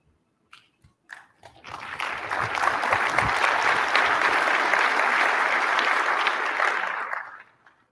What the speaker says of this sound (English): So a little bit of an awkward clap there